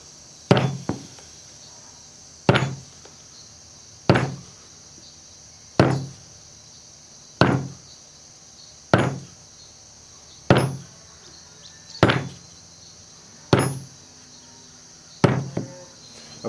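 Sharp metallic taps of a hammer striking a center punch, about ten evenly spaced blows, each ringing briefly, with no talking.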